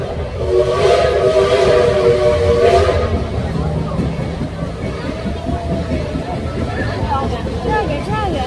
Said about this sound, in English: The train is so loud, y'all, we rode the train.